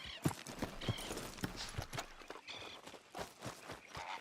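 Horse hooves clip-clop at a steady walking rhythm in Red Dead Redemption 2, the footfalls distinct and fairly quiet, with faint game ambience between them and no talk.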